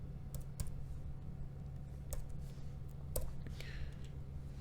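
Keys on a computer keyboard are tapped while code for a Flask app is entered, giving a few sparse, soft clicks over a low steady hum in a quiet room.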